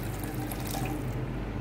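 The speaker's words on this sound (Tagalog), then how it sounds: "So, lagyan na natin siya ngayon ng tubig." Water is poured steadily from a tap into a soup pot for Filipino macaroni sopas, a continuous close splashing rush with no talk.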